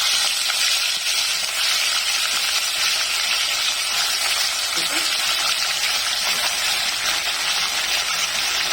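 About half a kilo of potatoes frying in a pan, a dense, loud, unbroken sizzle close up, with a brief knock of a utensil near the middle.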